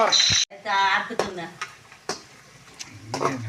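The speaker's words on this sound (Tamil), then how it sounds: "இப்போ வெங்காயத்தை போட்டு நம்ம வதக்கிட்டு இருக்கோம்" Onions sautéing in hot oil with mustard seeds and curry leaves, a sharp sizzle and clattering spatula stirs heard up close, with a voice talking in the pan noise.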